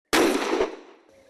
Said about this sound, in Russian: Здесь производится стрельба по тарелочкам, а также по движущимся макетам диких животных – лося и кабана.